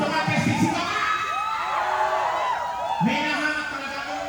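An audience at a live stage show shouts and cheers loudly in a sustained group roar, competing to be loudest for a prize hat, with excited children's voices rising above the crowd.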